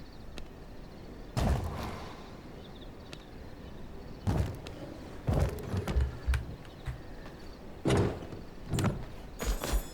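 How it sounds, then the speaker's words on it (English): Heavy doors slamming shut one after another in V Rising, several loud booming thuds spaced a second or two apart, some with a short rumbling tail, and no voices. "The familiar sound of doors closing."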